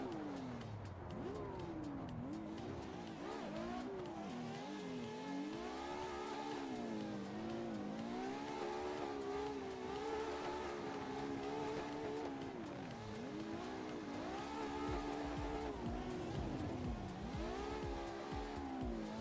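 Ferrari 599 in a drifting video game, its engine note rising and falling continuously with repeated revs and long tire squeals, loud and steady for the whole stretch.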